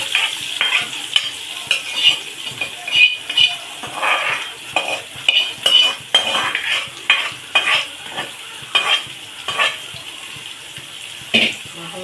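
Sliced onions frying in hot oil for mutton biryani, a continuous bright sizzle broken by repeated stirring strokes and scrapes across the pan, close and fairly loud throughout.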